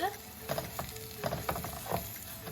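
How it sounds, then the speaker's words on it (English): Arborio rice stirred into a hot pan for risotto, a soft sizzle broken by several quick scraping stirs, close and quiet, with no speech. "arborio rice, or risotto rice, and mix that in."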